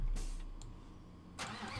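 An orange semi-truck tractor unit pulling a low-loader trailer in Construction Simulator 2015 rumbles steadily at mid pitch, with a brief burst of added noise near the end and no talking.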